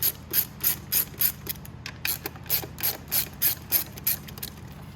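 A ratchet clicks steadily in rapid regular strokes, loosening the long clutch cover bolts on a Venom x22GT 250cc automatic motorcycle, close and clear with no voices.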